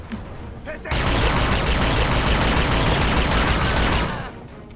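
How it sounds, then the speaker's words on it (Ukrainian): A dense burst of rapid gunfire in The Chronicles of Riddick: Escape from Butcher Bay, lasting a few seconds, loud and continuous before cutting off. "звуки пострілу"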